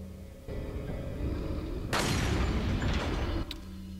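A single booming gunshot in Resident Evil 4 cracks out mid-way with a broad burst that rings and decays for over a second, set against a low, steady in-game ambience.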